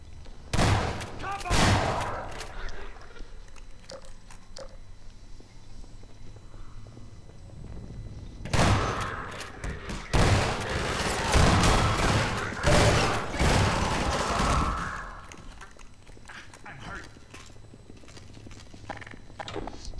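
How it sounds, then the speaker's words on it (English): Distant, muffled Half-Life 2 battle noise as Combine soldiers approach: bursts of rapid gunfire-like cracks and clattering footsteps in two loud stretches, with quieter gaps and faint voices between. "So you can hear the combine coming in the background already."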